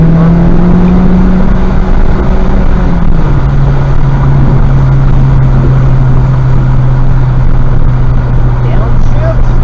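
Honda Civic Type R engine at steady throttle on a race track during a track day, a loud continuous drone holding a near-constant pitch that dips slightly partway, with an instructor talking over it throughout.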